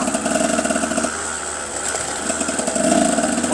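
Two-stroke motorcycle engine running at low speed on a slippery, mossy rocky trail, a near, steady buzzing drone with slight throttle changes.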